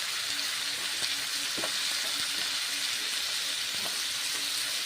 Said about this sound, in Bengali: ভেজে নিচ্ছি পনির বাঁধাকপি মশলা কষে নিচ্ছি একসঙ্গে নেড়ে চেড়ে কষে নিচ্ছি